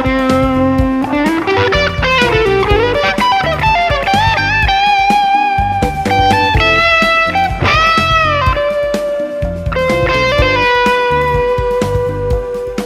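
Electric guitar plays a major 7 lick, a continuous run of bright sustained and bent notes over a steady accompaniment, loud and close with light distortion and effects.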